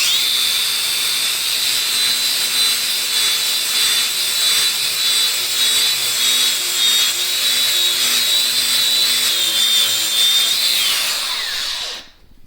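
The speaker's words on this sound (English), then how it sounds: "So with a wire wheel on the angle grinder, you'll see how easily it is to take off now." A wire wheel on an angle grinder cleaning steel parts, a loud continuous high whine with a rasping scrub that holds steady for about eleven seconds, then winds down as the tool is lifted off.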